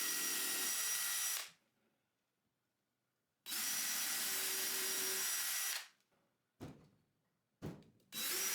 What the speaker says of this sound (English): I add glue, clamp the pieces and then pre-drill and screw.